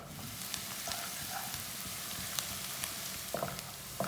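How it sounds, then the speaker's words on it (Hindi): Onions fry in oil for a noodle masala, giving a soft continuous sizzle with a few faint clicks of a spoon against the pan, fairly quiet and with no talking. "एक मैंने प्याज लिया, प्याज को हल्का ब्राउन कर लेना है।"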